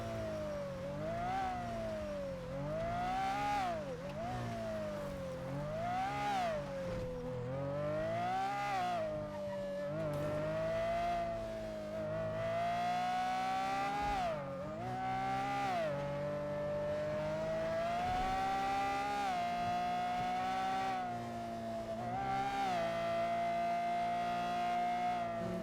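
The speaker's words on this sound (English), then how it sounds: "His car kind of sound like a fucking vacuum sometimes" A video game car engine revs and whines in rising and falling sweeps, with a thin, vacuum-like droning tone that swells and dips continuously and loudly throughout, without speech.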